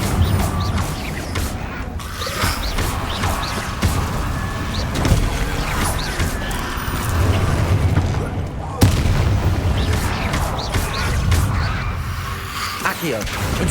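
Confringo blasting-curse explosions in the game Hogwarts Legacy, a dense run of booms and crashes from spell combat with layered effects and music, voices casting other spells amid the continuous fire.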